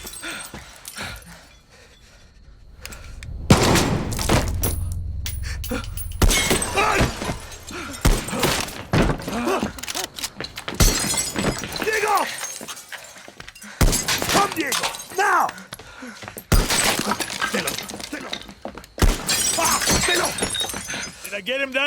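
A gunshot rings out in a Far Cry 6 video game cutscene, a sharp loud burst amid a busy mix of dialogue, music and action sounds, with people speaking around it.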